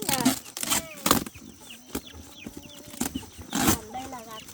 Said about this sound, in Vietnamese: Gà này là gà siêu đẻ.